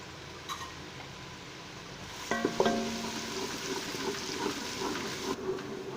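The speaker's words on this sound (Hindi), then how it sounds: "अभी हम इसमें चॉप किया हुआ अदरक और लहसुन जो है वो शामिल करते हैं और इसका कच्चापन ख़त्म होने तक इसको भी भूनते हैं साथ" Chopped ginger and garlic frying with onions in a pan for dal makhani, a soft steady sizzle with a few clinks of a spoon against the pan, close and fairly quiet, with no talking.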